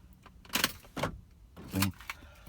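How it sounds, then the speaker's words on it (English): A few quick mechanical clunks and thumps inside a car, close by, as the power locks release when the key is turned off, with quiet pauses between; Viper 5706V remote start and alarm system. "it unlocks when I turn the key off."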